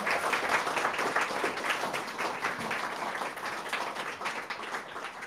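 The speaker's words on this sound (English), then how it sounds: "One more round of applause for Phil." A continuous round of clapping from a lecture audience for a speaker, moderately loud and even throughout, with no voices over it.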